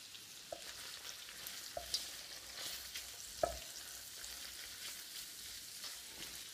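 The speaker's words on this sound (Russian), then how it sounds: "Вот, печенка жарится." Chicken liver with onion fries in a pan, a soft continuous sizzle with a few faint clicks and knocks of stirring, quiet and close, with no talking.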